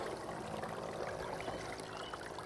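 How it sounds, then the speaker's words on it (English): A Beatbot Sora 70 robotic pool cleaner, just lifted from the water, drains with a steady trickling and splashing over the faint hum of its internal pumps, close and quiet. "I can hear internal pumps running, so it's still trying to drain itself."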